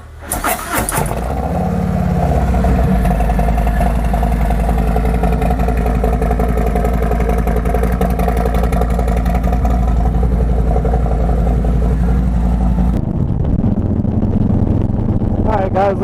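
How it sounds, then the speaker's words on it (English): A Harley-Davidson Road Glide motorcycle cold-starts with a short cranking burst, then settles into a loud, steady, close idle that rumbles on for over ten seconds before the pitch drops near the end. "let's cold start the Road Glide so you guys can hear the cold start"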